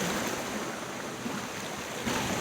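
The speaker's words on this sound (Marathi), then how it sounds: "बघा इकडे हो समुद्र असा खाऱ्या पाण्याचो" Sea waves wash steadily where a river stream meets the sea at Kondure beach, Vengurla: a continuous, close, broadband roar of surf with a slight swell near the end, no voices.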